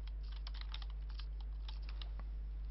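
Quiet, rapid keystrokes clatter on a computer keyboard in short irregular bursts over a low steady hum, with no voices.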